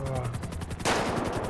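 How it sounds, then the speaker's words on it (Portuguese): Gunfire in GTA 5 roleplay, a sharp burst of shots cutting in over a running vehicle engine drone, loud and close. "Alguém deu um tiro quase em nós aqui?"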